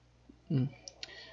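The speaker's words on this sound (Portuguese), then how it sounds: "Esse cubo vou dar 2 cliques." A brief vocal murmur, then two quick, crisp mouse clicks in close succession, faint and close-up in a quiet room.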